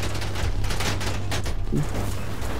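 Dense, continuous minigun fire roars through the whole stretch with a steady low hum beneath, loud and close, in a GTA role-play game.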